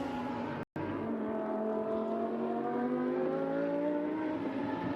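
A Lamborghini Super Trofeo race car roars at high revs around the Imola circuit, its engine note rising steadily through a gear with a brief cut near the start, loud and close with no talk.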